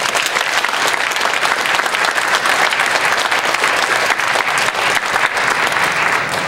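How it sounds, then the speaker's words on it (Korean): A church congregation applauds together, a full, loud, even roar of many hands clapping continuously without pause. "우리 서로 박수 한번 다시 하도록 하겠습니다"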